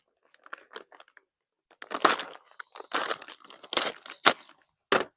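A daily food ration pack is unpacked close up. Its plastic packaging crinkles and crunches in scattered bursts, with sharper tearing rustles in the second half and no speech.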